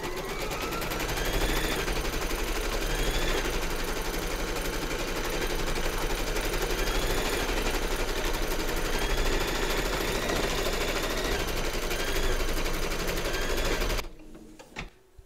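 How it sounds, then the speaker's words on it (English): Embroidery sewing machine stitching round two of a hooped pattern over batting, a loud, fast, unbroken mechanical rattle that runs steadily for about fourteen seconds before stopping abruptly. "Pop your hoop into your machine and stitch round number 2 to secure it."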